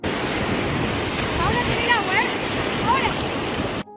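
Ocean waves wash onto the shore in a steady, loud rushing surge, with a few faint whistling or squealing tones riding over the surf.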